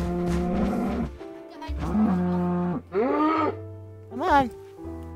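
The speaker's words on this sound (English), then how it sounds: "Come here, stupid cow." Minecraft cows low repeatedly in a video game, several loud, close drawn-out moos that rise and fall, with small gaps of quiet between them.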